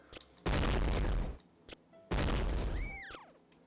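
Shots fire in Pooshooter: Toilet Invaders, a Space Invaders-style game: two long, loud booming bursts of gunfire, each lasting about a second, with brief pops between them and a falling whistle-like tone at the end.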